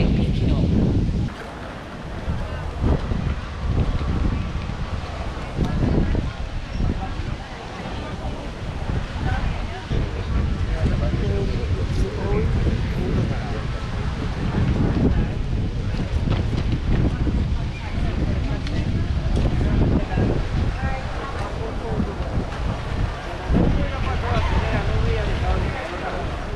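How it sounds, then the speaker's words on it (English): Strong, gusting wind buffets the microphone at an open-air market in Benidorm, a heavy continuous roar with rumbling surges throughout, while a voice talks underneath. "That wind is really, really picking up."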